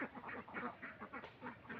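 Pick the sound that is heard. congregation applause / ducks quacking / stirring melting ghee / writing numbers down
ducks quacking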